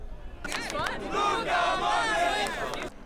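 Crowd of football fans in America cheering loudly for Real Madrid and Manchester United ahead of a friendly match in Michigan, a sustained roar of shouting voices rising after a brief quiet start and cutting off near the end.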